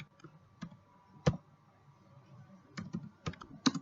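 Keys click on a computer keyboard in small, uneven bursts of taps with brief pauses, close and fairly crisp in a quiet room.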